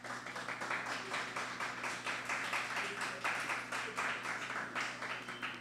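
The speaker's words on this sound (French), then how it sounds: "Vos applaudissements." Audience applause after a talk on youth employability in Haiti: a steady wash of many claps from a sizable crowd, faint and distant, continuing without pause and with no clear speech over it.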